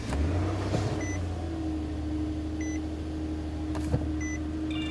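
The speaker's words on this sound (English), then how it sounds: "I'm going to go ahead and start the vehicle." A car's engine cranks and catches at the start, then settles into a steady low idle, with a dashboard camera chiming a few soft electronic beeps over the running engine.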